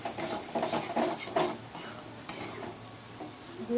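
Moong dal halwa stirred and roasted in a pan, a steady scraping and shuffling with repeated stirring strokes over a soft sizzle, close and fairly quiet, no talking.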